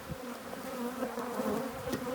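Honey bee buzzing steadily and close, a sustained droning hum from a bee caught in clothing at a spring beehive, continuous throughout with no talk.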